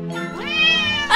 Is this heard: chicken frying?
no